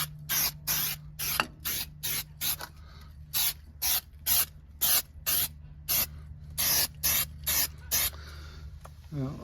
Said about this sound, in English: So I'll give this a bit of a shake and then we'll spray some on.